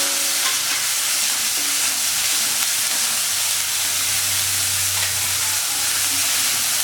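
Steady sizzling and crackling of finely chopped onions with curry leaves sautéing in a hot pan, continuous and close, with no talking.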